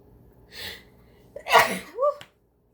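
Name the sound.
sneeze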